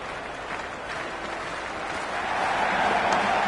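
Cricket crowd at a match cheering and applauding in a steady, dense wash of clapping and voices that swells slightly louder toward the end.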